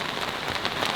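Steady rain patters outdoors on surfaces in a French village, a dense, even hiss of drops close by, with no voices.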